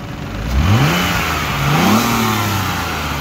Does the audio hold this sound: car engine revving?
yes